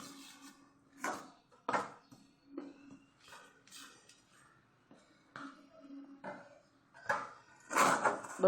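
Chocolate and butter being stirred together in a bowl, with a series of uneven scraping clinks and knocks of the utensil against the bowl.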